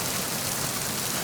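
Steady rain falls in the stealth video game Metal Gear Solid 2: Substance, a dense, even hiss of drops on surfaces with no breaks, close and moderately loud throughout.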